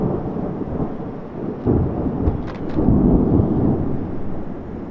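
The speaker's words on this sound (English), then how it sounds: "that storm was here just long enough to make everything all wet again" Thunderstorm with a broad steady wash of rain and deep rolling thunder that swells in the middle and rumbles on, close and loud, with no voices.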